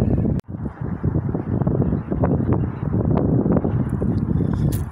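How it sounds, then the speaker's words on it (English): Strong wind buffets the microphone beside the Columbia River, a steady low roar with gusty rumbling throughout and one brief dropout near the start; no voices. "It's windy as hell"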